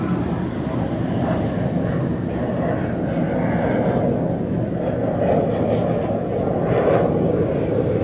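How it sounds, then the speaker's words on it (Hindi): MiG-29K fighter jet making a short takeoff from the aircraft carrier INS Vikrant, a loud, steady broadband jet roar that holds at close range for the whole stretch, with a faint voice buried underneath. "आईएनएस विक्रांत से एक शॉर्ट टेक ऑफ करके ये उड़ान भरता हुआ लड़ाकू विमान"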